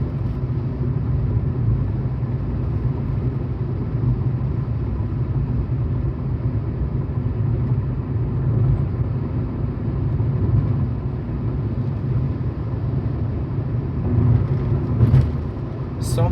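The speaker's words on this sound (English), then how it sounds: "Some of the sounds that you get are actually from the vehicle that we're traveling in rather than the undulations on the road" Steady low road rumble and engine drone fill the cabin of a moving Tata Altroz on the Mumbai-Pune Expressway during a monsoon drive, continuous and fairly loud, with a faint rattle near the end.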